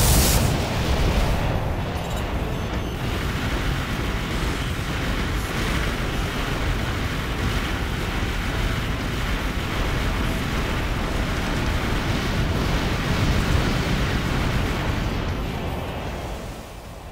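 Continuous heavy blasts and booming explosions from Procyon energy cannons in the video game Armored Core: for Answer, dense and loud throughout, with no pauses, fading slightly at the end.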